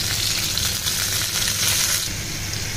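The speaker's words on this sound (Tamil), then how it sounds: "எல்லா மேரினேட்டட் பீசஸையும் இந்த மாதிரி ரோஸ்ட் பண்ணி எடுத்துக்கணும்" Marinated chicken pieces roasting in a pan for butter chicken masala give a steady, close sizzle and crackle of frying, continuous and even throughout with no voices.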